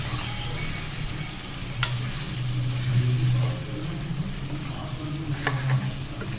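Chicken curry ingredients and onions fry and sizzle in a pan while being stirred, giving a steady crackle with scraping strokes and a low hum.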